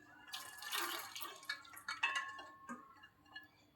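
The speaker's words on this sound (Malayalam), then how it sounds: "പയറിനൊപ്പമുള്ള ആ വെള്ളവും കൂടി ഇതിലേക്ക് ആഡ് ചെയ്ത് കൊടുക്കാം" Lentil cooking water is poured into cooked pumpkin for erissery, a soft, faint trickle and splash with a few light drips and small clinks of the vessel.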